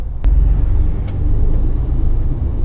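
A truck pulls away with a loud, deep engine rumble, steady and close, beginning with a sharp knock and carrying on without voices.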